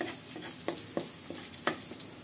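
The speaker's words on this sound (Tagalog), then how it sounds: "Ilagay na po natin ang bawang. Siyempre po, halu-haluin natin." Garlic frying in oil for chicken tinola, a steady crackling sizzle with a few sharper pops and spatula scrapes as it is stirred, close and fairly quiet.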